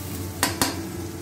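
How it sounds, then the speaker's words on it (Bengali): A spice paste is stir-fried in a pan with a low steady sizzle, and a spoon scrapes against the pan twice in sharp, quick strokes close by. "মশলাটা ভালো করে কষিয়ে নেব"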